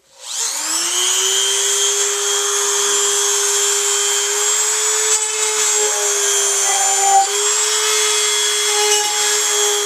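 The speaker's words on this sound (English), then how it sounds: "I'll just put 6 dents here so the drill knows where to go." A power drill drilling pilot holes into a small board whines steadily at high pitch, running continuously without pause, close and loud.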